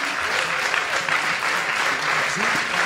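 Steady, dense audience applause fills a startup pitch-battle finale at a French web festival, with faint voices and some background music underneath throughout.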